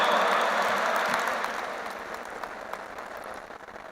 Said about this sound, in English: Please put your hands together and welcome with a big round of applause, Honorable D. Todd Christofferson.